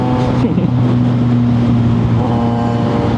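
Heavy traffic on the NLEX expressway in the Philippines, heard from a Kawasaki Z900 motorcycle: a loud, continuous engine drone and road rumble with passing vehicles, no talk.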